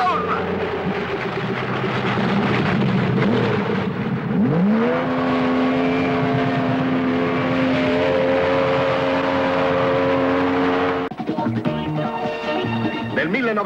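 In an Italian film scene, a car engine rumbles, then revs up into a rising, sustained whine as the car pulls away, loud and close, with voices briefly heard around it.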